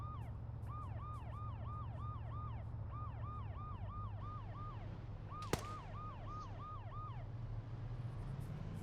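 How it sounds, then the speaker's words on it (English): An ambulance siren relayed over a radio scanner, wailing in steady repeated rising-falling sweeps through most of the stretch, with a sharp click partway through over a constant low hum. "Incoming ambulance down the road."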